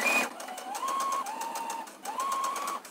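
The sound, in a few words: sewing machine stitching back seam of trousers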